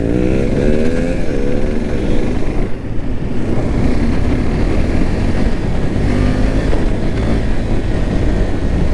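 A KTM 390 Gen 3 motorcycle accelerates hard nearby, its loud engine note rising in pitch and holding a strong roar throughout.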